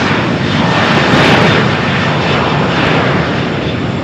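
Airliner accelerating along Runway 13 at Malaga Airport on its takeoff roll on a stormy morning, a loud, close, steady broadband engine roar that holds strong throughout without any talk.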